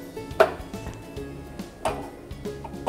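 A spoon scrapes and clanks against a pan while upma is served onto a serving plate, giving two sharper metallic knocks amid soft scraping, close by.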